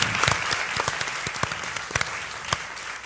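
Audience applause at a foreign-policy forum, a few seconds of dense clapping with individual sharp claps standing out close by, fairly loud and fading slightly toward the end.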